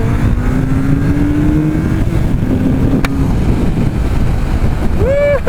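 Engine of a 2002 Honda CBR1100XX Super Blackbird motorcycle, recently rebuilt, pulling hard on the road as its pitch rises steadily, heard close and loud beneath heavy wind buffeting, with a sharp upward rev sweep near the end.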